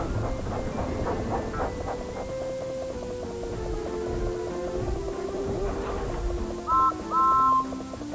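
A cartoon train rolls steadily along rails with a dense clattering rumble and hiss, and two short whistle toots sound near the end.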